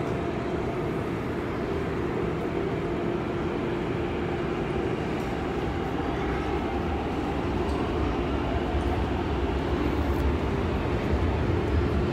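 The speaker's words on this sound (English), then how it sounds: "Next train is 3 minutes now." A metro train rumbles at Lam Tin Station, a steady, loud, continuous roar of wheels and motors that holds level throughout with no voices.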